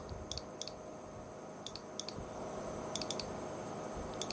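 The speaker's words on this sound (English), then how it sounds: "if you hear something clicking, that is my switch." Quiet, sparse clicks from a keyboard switch tick now and then over a steady low hum, faint and close, in pairs and small clusters.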